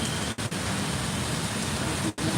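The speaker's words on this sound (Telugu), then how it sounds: "మస్తు వర్షం పడుతుంది మస్తు అంటే మస్తు వర్షం పడుతుంది" Heavy rain pours down in Hyderabad as a dense, continuous hiss filling the whole moment, loud and close.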